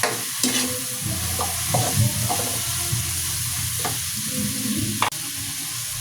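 Pork lechon sautéing in a pan as it starts a sinigang, with steady sizzling of frying meat and repeated stirring scrapes throughout, close and fairly loud, with no talking.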